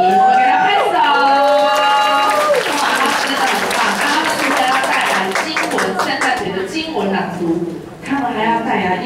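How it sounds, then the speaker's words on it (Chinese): Applause for primary-school Sunday school children at a church Christmas celebration, a dense sustained clapping that runs for about nine seconds under a singing or speaking voice and scattered crowd noise. "我给他拍手"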